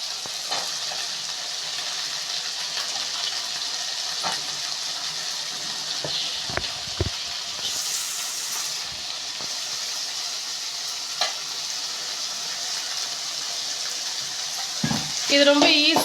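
Chopped green beans frying in a kadai for beans poriyal, a steady moderate sizzle with occasional stirring clinks and scrapes, rising louder toward the end.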